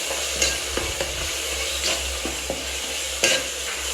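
Mint and coriander leaf paste sizzling with chicken in a pan for biryani, a steady loud frying hiss broken by several scraping strokes of a stirring spoon.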